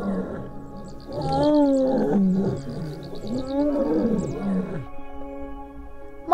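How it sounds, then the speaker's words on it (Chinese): A lion roars in deep, resonant bursts, two long swelling calls that rise and fade, close and loud with no talking. "当它吼叫时，空气有较长的共鸣腔，并产生雄厚深沉的声音"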